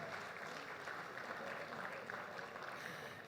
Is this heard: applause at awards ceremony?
yes